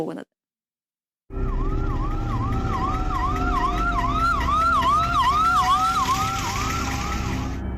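A loud wailing ambulance siren cycles rapidly up and down after a brief silence, close by, with traffic rumble underneath, on a damaged road to a hospital in Munnar.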